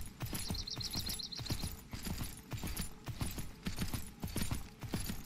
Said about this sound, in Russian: Бля, там же и лошадь.